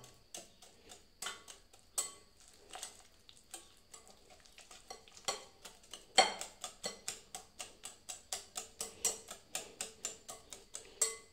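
Ripe banana mashed by hand in a bowl for a bread banana mini cake, a quiet run of soft squelching presses that grows into a steady, rhythmic series of wet squishes.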